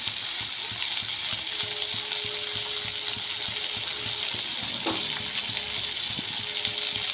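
Paneer curry with spices, capsicum and potato sizzling in a pan, a dense continuous hiss with faint stirring clicks and a brief clink midway.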